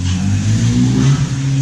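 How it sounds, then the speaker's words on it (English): A race car engine revs outside in the distance, a sustained mid-pitched drone that rises and holds for a moment, heard alone without talk. "you guys hear that race car out there?"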